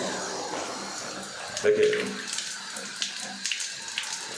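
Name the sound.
dual flush toilet flushing and refilling with water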